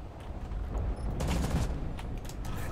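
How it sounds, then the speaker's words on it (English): Dense, continuous mech gunfire from Hawken combat, a loud rapid volley of overlapping shots and booming impacts that runs without pause throughout. "Stop shooting me."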